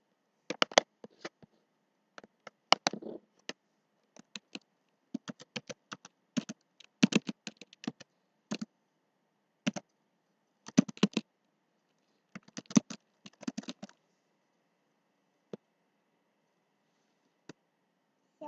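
Bursts of typing on a computer keyboard, crisp close key clicks in short irregular clusters separated by quiet pauses, as a media player's name is entered on a Windows computer.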